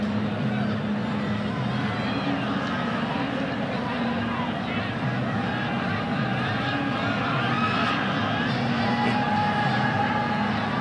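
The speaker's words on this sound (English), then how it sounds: "Anxious crowd on the top of their lungs" Large stadium crowd at a women's international football match between Lebanon and Nepal, shouting and roaring anxiously in a steady, dense wall of noise throughout.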